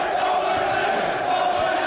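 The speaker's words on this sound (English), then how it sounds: "Wow, what a crowd." Crowd gathered outside a radio studio in Cleveland, a dense wash of cheering and shouting voices that holds steady and loud for the whole stretch.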